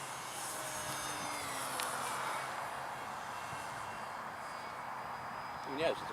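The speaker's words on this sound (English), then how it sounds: "easy flying plane" A ParkZone Artizan electric RC plane flying overhead outdoors, a faint, steady high whine drifting in the distance over broad wind noise, with a brief voice near the end.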